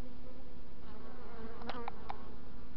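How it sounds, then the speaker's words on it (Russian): A honeybee buzzes close by in a few short bursts, loud and near, then fades, over a steady outdoor hum near the hive in March. "бросается на камеру пчела"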